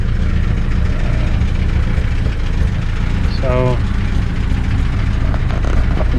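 A 1929 Whippet car's engine runs at a steady low idle, a constant close rumble filling the background while someone briefly speaks.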